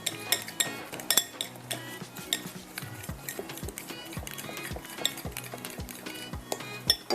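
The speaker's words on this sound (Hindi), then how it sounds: "ये रहा मेरे पास फोक, ताकि ये सारी चीज़ें मिक्स हो जाएं" A fork clinks and scrapes rhythmically against a bowl while mixing yogurt with other ingredients for a vegetable gravy, close and fairly quiet, with repeated light taps.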